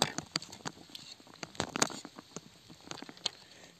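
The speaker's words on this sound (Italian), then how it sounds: "Cambiamo posto qua che piove un po' troppo adesso." Rain patters outdoors in irregular light taps and drips, some sharper splashes standing out against a faint steady background, with no voices.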